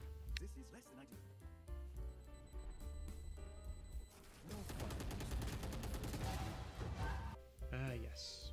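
Rapid sustained automatic fire from the Ares light machine gun in Valorant, a dense rattling burst lasting several seconds amid game music and effects, with a voice talking over parts of it.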